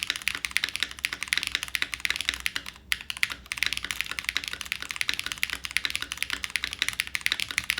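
Fast typing on an Evolv mechanical keyboard fitted with Alps switches, giving a dense stream of sharp clicky keystrokes up close and fairly loud, broken by one short pause near the middle.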